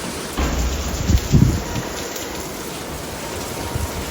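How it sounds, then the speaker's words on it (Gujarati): Heavy rain pours down in a dense, steady wash, swelling briefly near the start and keeping up a constant hiss until the end. "ઓ કેવો જોરદાર વરસાદ આવે છે."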